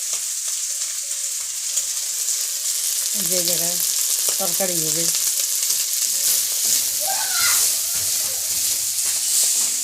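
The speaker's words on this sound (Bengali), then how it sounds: "এই যে শামুক এখন রান্না হচ্ছে," Snails fry in a pan with a continuous bright sizzle and occasional stirring, steady and close, while a person speaks briefly over it.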